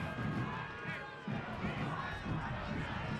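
Stadium crowd at a Detroit City FC versus Memphis 901 FC soccer match reacting to a foul call, a steady loud roar of voices with rising swells, under a commentator's talk.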